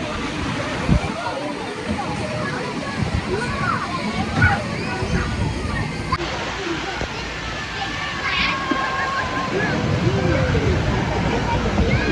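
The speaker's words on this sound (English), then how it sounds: "This small little log flume is great for the whole family." Water splashes and sloshes steadily from a small family log flume ride at Thomas Land, Drayton Manor theme park, with a continuous rushing wash and a faint crowd murmur in the background.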